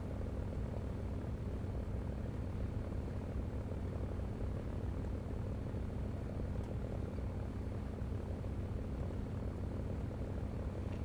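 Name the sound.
fighter plane engine in a video game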